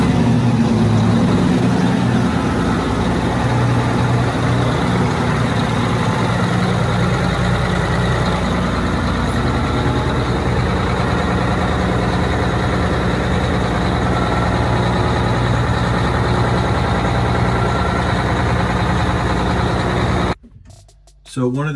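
A marine diesel engine aboard a 1988 Hatteras 65C yacht runs steadily at a loud, low rumble for about twenty seconds, then cuts off abruptly near the end.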